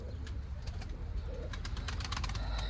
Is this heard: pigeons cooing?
yes